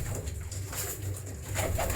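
A Ferozpuri breeding pigeon pair gives soft, low cooing close by, faint against a steady hiss, with no talk.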